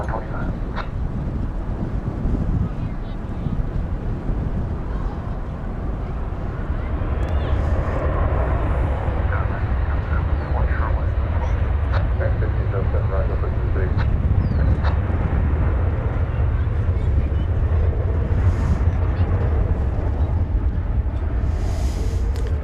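An American Airlines jet rolls for takeoff at DFW Airport, a heavy low engine roar building and holding steady over the stretch, with wind buffeting the microphone and a radio voice occasionally audible.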